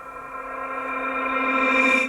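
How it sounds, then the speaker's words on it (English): A sung vocal with a reverse reverb effect swells gradually louder over about two seconds as a sustained, washy tone, then cuts off abruptly at the end. "there's like this reverse reverb, and then I cut it"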